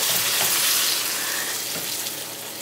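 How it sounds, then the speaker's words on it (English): Tomatoes hitting a pan of hot garlic set off a loud, close sizzle with crackling spatter, easing slightly as it continues. "Just give it a stir and go ahead and add the tomatoes."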